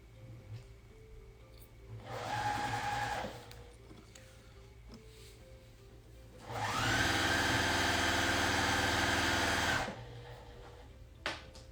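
A sewing machine stitching fabric in two runs, a short burst of motor whir followed by a longer, louder stretch of steady humming stitching, with quiet room tone between.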